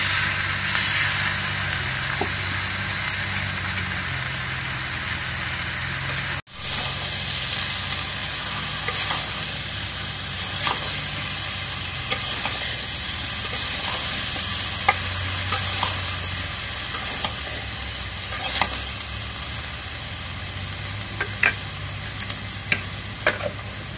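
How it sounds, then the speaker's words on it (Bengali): Masala and curry sauté in a pan, a steady close sizzle with scattered stirring clinks and a low engine-like drone underneath, briefly cut out once. "এখন তরকারি রেখে দিয়ে একটু কষায় নেই।"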